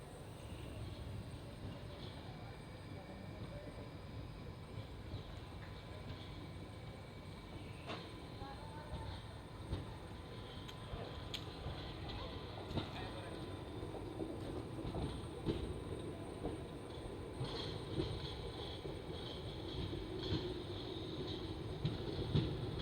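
The Koyna Express, Mumbai to Kolhapur train 11029, runs on after leaving Masur with a steady, faint onboard rumble and rattle, plus occasional light clanks.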